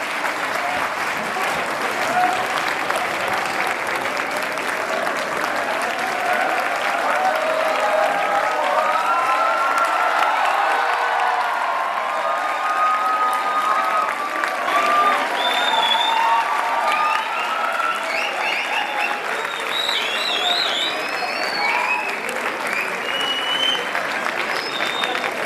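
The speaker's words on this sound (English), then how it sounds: "A big round of applause for sir." Steady, loud applause from an audience fills the hall at a youth day celebration, sustained clapping throughout with some crowd murmur and cheering mixed in.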